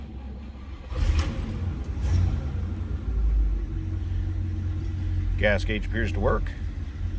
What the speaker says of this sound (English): let's go ahead and fire this up.